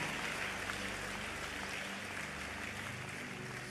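A church congregation applauds, a dense, steady wash of clapping that holds at an even level throughout with no voices rising above it.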